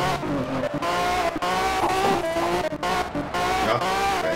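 Race car engine in the video game Need for Speed Shift 2, a loud, close, high-revving roar with rapid pitch shifts through gear changes and brief dips, tire squeal mixed in, continuous without talking.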